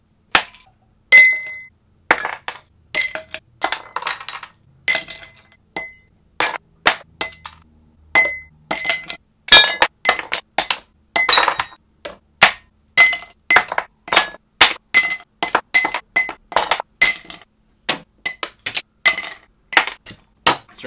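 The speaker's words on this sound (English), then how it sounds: "Ice your glass." Ice cubes clink and rattle into a cocktail glass for a Singapore Sling, a long series of sharp, bright knocks coming in uneven clusters, close and loud with no talking.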